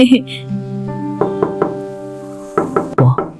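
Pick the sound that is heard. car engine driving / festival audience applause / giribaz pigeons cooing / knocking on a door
knocking on a door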